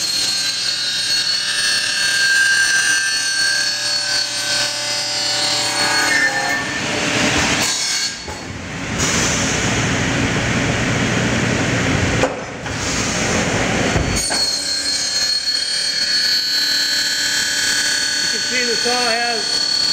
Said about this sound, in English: Do a trim cut to start with.